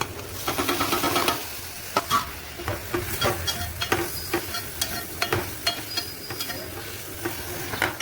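Onions and tomatoes frying with ginger garlic paste, a loud steady sizzle broken by repeated scraping and clacking of a spoon stirring the pan, close by with no talking.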